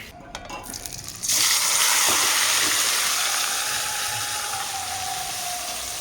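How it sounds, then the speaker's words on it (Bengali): Mutton drops into hot oil in a kadai, oil already used for frying potatoes. A loud sizzle bursts in suddenly after a quieter start, then holds as a steady, crackling frying hiss that eases off slightly over time. "এই যে কড়াইতে চলে গেল মাটন,"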